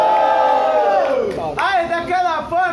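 A rap battle crowd roars and cheers loudly and continuously, with shouts and whoops rising over a dense wash of voices.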